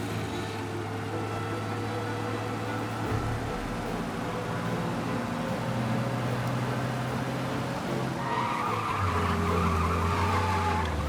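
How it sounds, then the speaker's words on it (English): Tires screech as a car skids during a police chase in Mafia: Definitive Edition, a sustained squeal over a steady engine roar that runs continuously and loud for the whole stretch, with no talk. "We lose them by driving real fast and getting clear of them."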